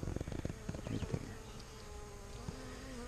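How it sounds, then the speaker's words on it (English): Honeybees swarm and buzz around their queen while being handled by a beekeeper, a dense, close insect drone with a few louder bursts of buzzing early on, then settling into a steady hum. "And all of the bees are around her."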